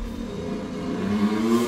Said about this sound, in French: Oh, super, là, une moto sur roue arrière.